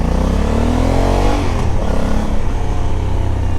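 A 2020 Honda Africa Twin 1100 motorcycle with a manual gearbox revs loudly and close up, its engine note climbing and falling in a steady throaty roar with no pauses.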